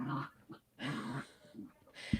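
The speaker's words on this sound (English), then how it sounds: "That is a loudly growling dog." A dog growls loudly in low rumbling bursts that come and go, heard fairly close and ending in a short sharp thump.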